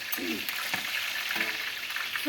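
Eggplant slices frying in hot oil give a steady, close crackling sizzle throughout, with faint voices briefly in the background.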